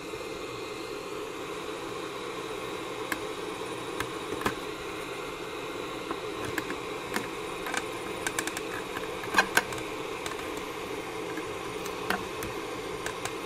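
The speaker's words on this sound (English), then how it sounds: "Hot air gun should do fine." A hot air gun blows with a steady airy hiss throughout while working on a Sinclair ZX81 keyboard, punctuated by scattered small clicks and taps nearby.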